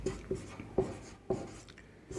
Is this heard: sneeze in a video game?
no